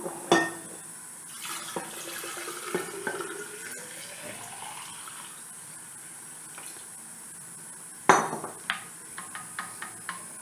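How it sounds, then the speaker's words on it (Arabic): Water poured into a cooking pot in an Algerian home kitchen, heard as a soft rising fill with metallic clinks of the pot at the start and again near the end, close and quiet without talk. "نزيدو الماء"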